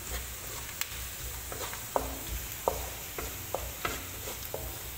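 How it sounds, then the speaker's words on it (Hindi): Flour being fried with onions in a pan: a steady run of scraping stirs with light clacks against the metal at regular intervals over a faint sizzle, close and without speech. "इसको आपने ये प्याज के साथ अच्छे से भून लेना है"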